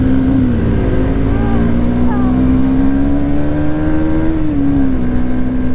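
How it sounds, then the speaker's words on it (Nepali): A motorcycle engine holds a steady, loud drone at speed on an open road, its pitch rising slightly and then dipping, with strong wind rumble throughout. "गाइज बाइकको साउन्ड कै कस्तो खतरा आयो क्या"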